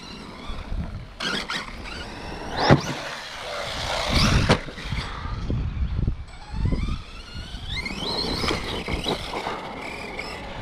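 An Arrma Outcast 4S V2 RC truck driving outdoors, its motor whining and revving in uneven bursts with tire scuffs and squeals, close and moderately loud, with wind buffeting the microphone.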